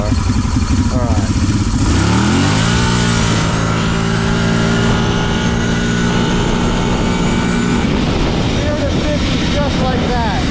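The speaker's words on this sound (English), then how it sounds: "Let's do a pull on this thing from 0 miles an hour." A Brute Force off-road vehicle pulls hard from a standstill on pavement, its loud engine revving up through rising pitch with sustained roaring acceleration close by, while people talk over it.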